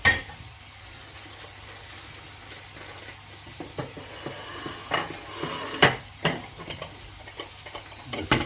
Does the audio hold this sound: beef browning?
yes